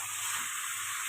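Potatoes seasoned with turmeric and salt frying in a pan, a steady, even sizzle and hiss throughout with no voices.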